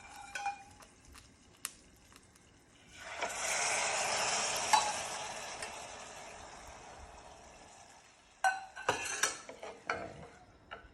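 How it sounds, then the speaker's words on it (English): A spoon stirs toasting risotto rice in a pan as stock is added, giving a burst of sizzling hiss that swells and fades, with scraping clinks of utensil against pan before and after. "I'm going to start adding my stock at this point."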